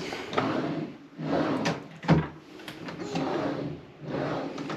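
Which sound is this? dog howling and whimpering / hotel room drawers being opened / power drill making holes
hotel room drawers being opened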